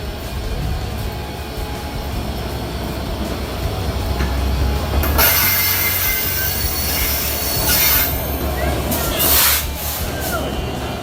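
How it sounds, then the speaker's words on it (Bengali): The Sundarban Express stands at a Bangladeshi station on the Kushtia–Khulna route, rumbling low before loud, shrill wheel squeals cut in and persist, with voices in the background. "এই সুন্দরবন এক্সপ্রেস ট্রেনটি আবার রাত 9টার ট্রিপে যাওয়ার জন্য"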